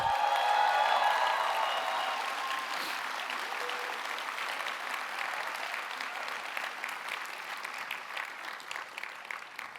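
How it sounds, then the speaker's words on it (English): An audience at a Voices for Gaza event breaks into applause for speaker Mahmoud Khalil, a dense wash of many hands clapping that starts strong with a few whoops and slowly thins while staying loud and sustained. "when I say his name, there's going to be an applause"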